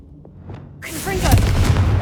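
A Confringo blasting spell in the Hogwarts Legacy video game: after a quiet lead-in, a sudden loud blast erupts and swells into a sustained, rumbling explosion.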